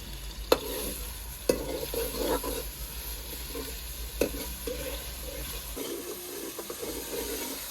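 Ground masala frying in a pot, a continuous crackling sizzle broken by several sharp spatula knocks and scraping stirs, with a low hum underneath that drops out partway; no one speaks.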